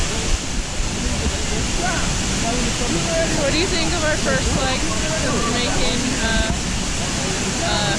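Reach Falls in Jamaica: a steady, close roar of cascading water fills every moment, loud and unbroken, while people talk over it.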